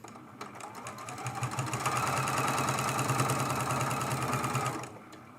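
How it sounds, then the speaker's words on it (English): Sewing machine fitted with a walking foot stitching a table runner, a close, rapid, even mechanical chatter that speeds up, holds steady for several seconds, then stops. "I still have my walking foot on. And we're going to start sewing."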